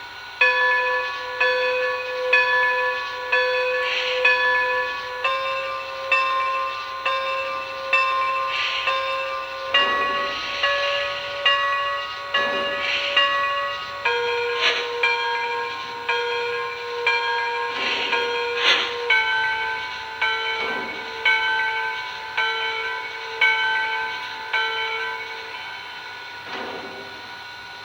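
The bell of a Lionel 2-8-0 Consolidation model steam locomotive rings over and over in a steady rhythm, each clang ringing out, with the pitch changing every few seconds between bell tones.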